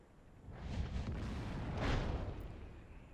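A Wespe self-propelled artillery gun in World of Tanks fires, giving a muffled, rumbling boom that swells twice over a few seconds, heard at a moderate distance.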